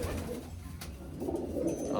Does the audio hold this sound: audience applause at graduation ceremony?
no